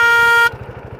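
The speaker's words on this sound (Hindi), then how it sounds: "इसको एक हॉर्न डाला है मैंने इधर, ये जो हॉर्न है ये अंदर वो पैम्प बजता है" Aftermarket horn fitted to a TVS XL moped blares once, loud, steady and close for half a second, then cuts off, leaving the low putter of the idling engine.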